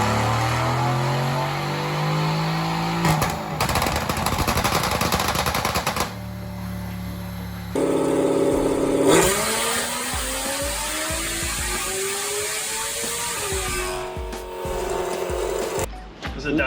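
A tuned Audi TT RS making over 600 hp revs hard on a Dynojet dyno inside a shop: loud, repeated engine pulls climb steeply in pitch, broken by shifts and sharp rapid crackling bursts.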